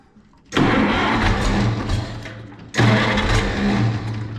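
An Oliver 1600 FWA tractor engine cranks and sputters loudly, stopping briefly, then cranking again with a rough, churning rumble.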